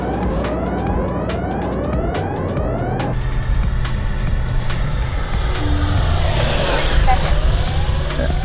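An FMS J-10 RC model jet flies past with a loud, continuous whine whose pitch rises and falls as it approaches and sweeps by, growing slightly louder near the end.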